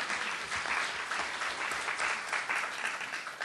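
Dense, even applause from an audience at a policy forum fills a few seconds with a steady crackle of many hands clapping, with no voices over it.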